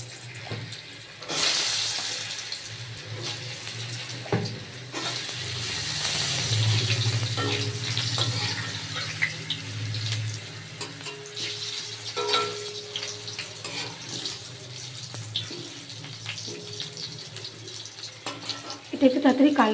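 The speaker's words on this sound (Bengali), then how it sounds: "তো এবার এই তেলের মধ্যে আমি এবার যে খিচুড়ির জন্য সবজিগুলো কেটে রেখেছিলাম এগুলো এক এক করে লাল লাল করে ভেজে নেব।" Potatoes and chopped vegetables fry in oil for khichdi, a steady hiss and crackle with stirring, water-like splashes and a voice speaking over parts of it.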